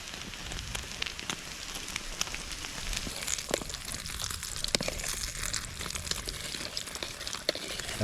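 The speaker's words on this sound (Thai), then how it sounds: "เพราะว่าฝนก็ตกแล้ว" Rain patters steadily on leaves and surfaces in a deep forest, a dense crackling hiss with scattered sharper drops, close and continuous, with no voices.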